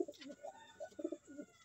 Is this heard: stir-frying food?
no